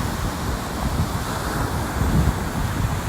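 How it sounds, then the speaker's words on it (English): Powerful ocean waves break on a dog beach, heard as a continuous roar of surf with heavy wind buffeting the microphone and low rumbling surges swelling near the middle and later. "Well, the waves are super powerful, really."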